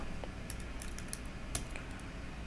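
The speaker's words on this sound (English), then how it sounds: "let me type it in" Quiet, irregular clicking of typing on a computer keyboard, a short burst of keystrokes in a room with a steady background hum and no talking.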